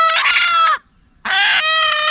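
A desi village hen being hand-fed moistened feed gives two loud, close calls separated by a short pause, each a drawn-out, harmonic clucking cry.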